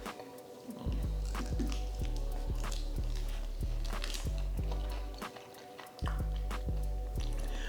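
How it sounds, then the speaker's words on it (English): Biting and chewing a crispy fried chicken wing up close, a series of repeated crunchy bites and chewing sounds in a steady rhythm. "Skin's got a nice crunch to it and very juicy on the inside."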